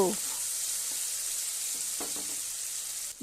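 Tomatoes with salt sizzle in a frying pan, a steady bright hiss broken by a few soft scraping stirs of the spoon against the pan.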